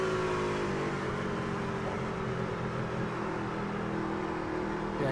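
A truck engine in an online racing game's truck series runs at a steady drone with the driver well off the throttle to save fuel. The engine holds a constant, even hum throughout with no revving.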